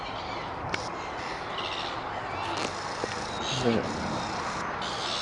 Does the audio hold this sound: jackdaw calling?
yes